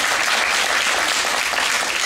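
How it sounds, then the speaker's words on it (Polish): Audience applause for a guest actor at a meeting, steady dense clapping filling the whole stretch at close range with no voices over it. "Proszę o brawa dla pana Tadeusza."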